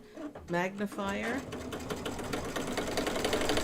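A home sewing machine stitches in a rapid, steady mechanical rhythm close by, starting just after a person talks over its opening moments.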